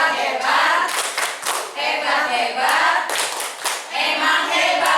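Rhythmic group hand clapping in a set pattern during a school teachers' session, close and crisp, bursts of claps in repeated cycles with brief pauses between them, no talk over it.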